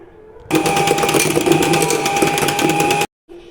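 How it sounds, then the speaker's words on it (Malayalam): An electric hand beater whirs steadily for about two and a half seconds, mixing cupcake batter with sunflower oil and milk, starting and stopping abruptly, loud and close with no talk. "ഇനി ഇതൊരു 2 സെക്കൻഡും കൂടെ ഒന്ന് ബീറ്റ് ചെയ്തെടുക്കാം."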